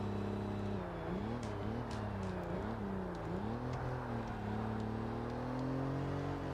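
Ferrari race car in Forza Motorsport during a Class C endurance race, its engine droning and revving up and down through the gears in a continuous, fairly close whine with no talk.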